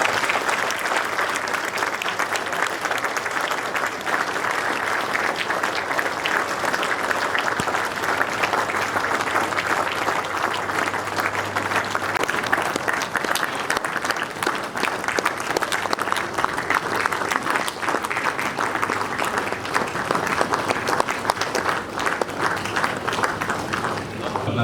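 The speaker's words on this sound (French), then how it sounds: "Vous pouvez effectivement applaudir," Sustained applause from an audience at an official medal ceremony, a dense, even wash of clapping that continues steadily for the whole stretch without pause.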